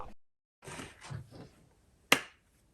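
A single sharp hand clap, brief and fairly close, comes after a stretch of talk and a quiet pause; it sounds thin and weak rather than full.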